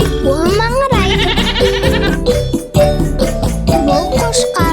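A cartoon farm sheep bleats in short wavering calls woven into a lively children's song, with music and a voice playing loudly the whole time.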